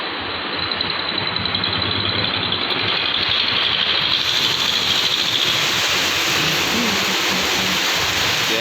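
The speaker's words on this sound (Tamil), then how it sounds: "கேரளாவில் மழை" Heavy rain in Kerala, a steady broadband roar that runs loud and unbroken throughout with no voices.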